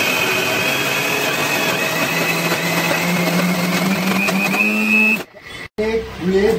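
Electric mixer grinder whirring steadily as it grinds soaked lentils with water, a close, loud motor whine rising slightly in pitch before cutting off abruptly, followed by brief clatter.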